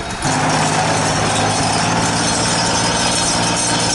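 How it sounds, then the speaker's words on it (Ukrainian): Tractors strain to push through deep, dense snow on a rural road during a blizzard, giving a steady low engine rumble mixed with constant wind noise, no voices. "трактори Олександра Олександровича Бондаря зараз пробують пройти і прочистити дорогу"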